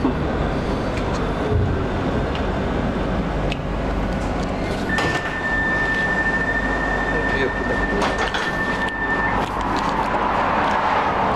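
Steady low rumble of a new Pesa Fokstrot tram rolling along rails in Moscow, with continuous wheel noise and a sustained high whine partway through.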